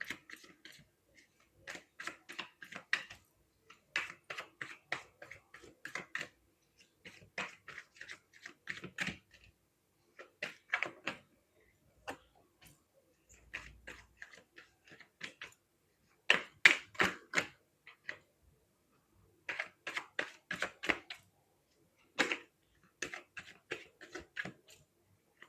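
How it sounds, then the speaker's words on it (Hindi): Tarot cards being shuffled by hand, quiet close bursts of rapid riffling and flicking in repeated short runs separated by brief pauses, with no talk. "चलिए कार्ड को शफल कर लेते हैं।"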